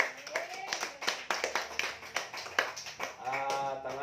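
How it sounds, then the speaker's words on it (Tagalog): A church congregation at a Filipino Catholic Mass claps loudly in bursts of sharp, irregular claps, with a voice rising in song or exclamation over the clapping near the end. "Yung palakpak na malakas na malakas."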